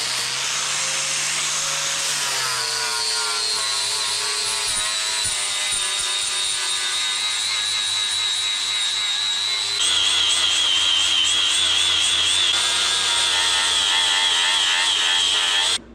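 Power tool grinding against the surface of a concrete workbench, a continuous high whine with shifting pitch that rises and grows harsher partway through, loud and close with no talking.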